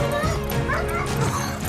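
A dog barks and whimpers in a series of yips and whines during an animal rescue by police officers, the calls continuous and fairly close, mixed with background voices.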